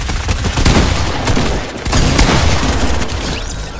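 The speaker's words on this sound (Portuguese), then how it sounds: "Eu errei meu tiro de shotgun, claramente, quando eu tinha acertado." Shotgun and other gunfire in the video game Fortnite: loud, rapid bursts of shots crowd together in quick succession, with brief dips between volleys, heard close and dominating throughout.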